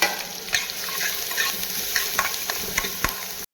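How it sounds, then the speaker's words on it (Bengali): Onions fry in hot oil with panch phoron spices in a pan, giving a steady close sizzle punctuated by sharp crackles and spoon scrapes, with no voices. "চলো পেঁয়াজগুলো ভেজে নিই।"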